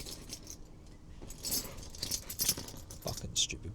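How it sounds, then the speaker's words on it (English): A bunch of BMW car keys jangles in bright, uneven metallic bursts close by, with a few sharper clinks near the end and soft voice sounds in between. "Fucking stupid keys."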